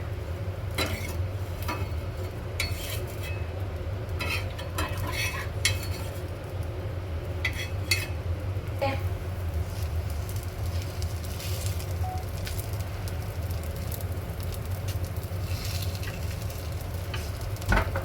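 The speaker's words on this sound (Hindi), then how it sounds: "तो गाइज ये डोसे का बैटर मैंने डाल दिया है।" Dosa batter sizzles and fries on a hot pan with no oil, a steady close crackling hiss throughout with occasional scraping and utensil clinks, no one speaking.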